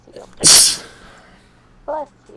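A single sharp, close sneeze in a Minecraft gaming session, a loud explosive burst followed by a short voice shortly after.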